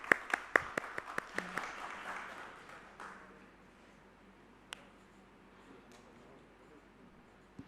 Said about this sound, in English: Please give a big applause to the speakers and the moderator